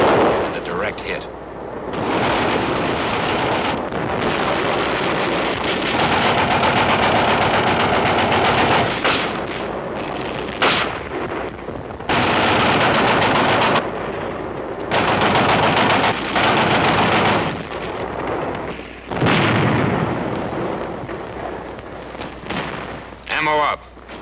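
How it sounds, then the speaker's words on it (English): Heavy weapons fire from a Korean War battle, a 75 recoilless rifle among them: loud, sustained bursts and booming blasts in repeated long stretches, with brief lulls between, dense and close throughout. "The 75 recoilless rifle. And a direct hit."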